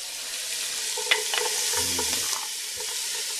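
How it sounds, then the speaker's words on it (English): Organic carrot sautéing in butter in a pan over medium heat gives a steady, soft sizzle, with a few spoon scrapes and light clinks as the pieces are stirred. "We're going to saute it nice in the pan without getting it brown"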